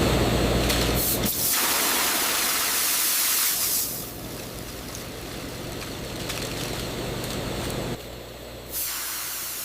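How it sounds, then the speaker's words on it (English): A strong blast of filtered air rushes over freshly fried hot fish chips, a loud steady hiss that cuts off briefly and resumes in bursts on an industrial snack line. "A strong blast of filtered air first removes surface oil and lowers the temperature slightly."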